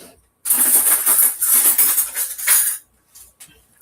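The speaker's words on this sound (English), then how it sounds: "Now I'm going to get a spoon. Grab a spoon real quick." Metal cutlery clinks and rattles as a spoon is grabbed from a kitchen drawer, a close burst of jangling lasting about two seconds, followed by a few softer taps.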